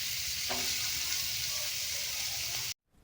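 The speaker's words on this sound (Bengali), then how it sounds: "গলিয়ে নেওয়ার পরে দিয়ে দিতে হবে কুচি করে রাখা পেঁয়াজগুলো।" Chopped onions frying in melted butter on a hot tawa for street-style egg chaat, a loud steady sizzle with a few stirring scrapes, ending abruptly in silence.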